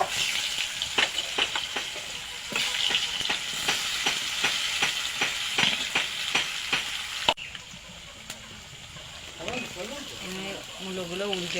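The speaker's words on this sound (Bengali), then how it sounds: "তেলটা গরম হয়ে গেছে, এবার মূলো ভাজাগুলো দিয়ে দেবো।" Radish slices frying in hot oil give a close, steady sizzle punctuated by a regular run of sharp clattering taps, then the sizzle settles quieter while a voice speaks near the end.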